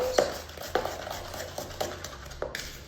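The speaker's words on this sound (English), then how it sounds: "So I'm just going to cream that until combined." Olive-based margarine and caster sugar are creamed in a bowl, giving close, irregular scraping and tapping strokes of a utensil against the bowl over a quiet background.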